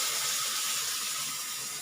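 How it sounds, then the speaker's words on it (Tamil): Water is poured into a masala in a pan while cooking pepper egg masala, a steady close hissing, splashing stream with no voices. "இதுலேயே கொஞ்சம் தண்ணி விட்டு ஊற்றுறாங்க."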